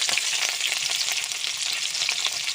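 Green chilies and five-spice seeds sizzle in hot oil in a village kitchen, a continuous bright crackling hiss at close range with small pops and stirring, and no voices.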